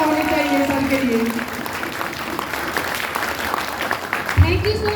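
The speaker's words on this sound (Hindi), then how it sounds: "बहुत जोरदार तालियां होनी चाहिए सर के लिए" A crowd applauds Neeraj sir after his motivational speech, a sustained wash of clapping filling the room while a voice talks over the start and resumes near the end.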